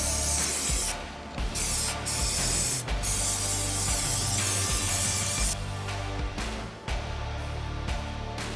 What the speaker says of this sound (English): Using the chain cleaner, spray the chain liberally.